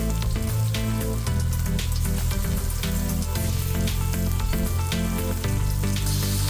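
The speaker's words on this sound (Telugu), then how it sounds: "ఇప్పుడు మీరు శుభ్రంగా కడిగి పెట్టుకున్న చికెన్ ముక్కలు వేసుకోండి." Washed chicken pieces frying in onion ginger garlic paste for an Andhra-style chicken fry; loud, dense, continuous sizzling and crackling close by, steady from start to finish with no voices.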